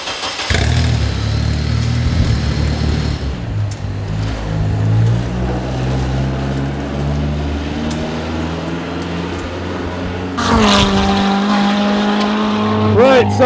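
A lightweight Australian-built Spartan track car on semi-slick tyres runs at Anglesey Circuit, its engine droning loud and close with slowly climbing pitch, then a sharp shift and renewed surge near the end.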